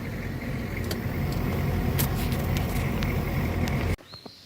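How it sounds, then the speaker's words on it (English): A classic Bullnose pickup truck drives with a steady, loud engine and road rumble close by, then the noise cuts off abruptly near the end, leaving brief faint sounds. "Battle, thanks for going on a ride with me in my Bullnose truck today."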